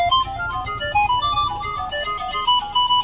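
A Vertu Ascent Ti Silver phone plays its ringtone loudly outdoors, a bright repeating melodic chime over a low buzzing vibration, steady and close for the whole stretch with no talk.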